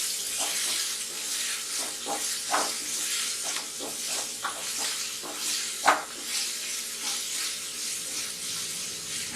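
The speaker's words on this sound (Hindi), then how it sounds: "और ये सब्जियों को 2 से 3 मिनट तक हम ऐसे भूनेंगे" Carrots and green onions stir-fry in a hot pan for veg hakka noodles, giving off a steady, moderately quiet sizzling hiss broken by occasional sharper crackles and pops.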